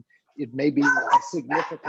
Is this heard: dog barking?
yes